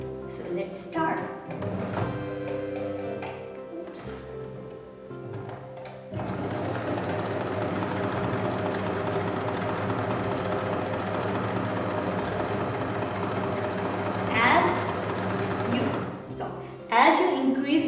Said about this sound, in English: If you are new, just slightly press on the presser foot and the speed will be at its lowest.